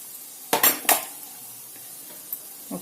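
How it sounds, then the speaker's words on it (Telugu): Softened dried red chillies dropped into a mixer jar, giving two quick close clatters of a spoon against the jar, then near quiet with a faint tap or two afterward. "ఎండుమిరపకాయల్ని మిక్సీ జార్లో వేస్తా"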